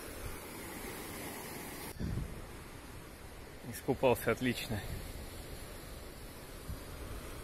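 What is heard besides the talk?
sea waves on the shore in Turkey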